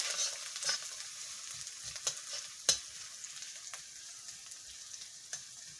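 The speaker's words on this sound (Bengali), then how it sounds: "আমার পেঁয়াজ হয়ে আসছে, তোমরা দেখো" Onions fry in a pan with a quiet, steady sizzle, broken by occasional scraping clicks of a spatula stirring them. No voices are heard.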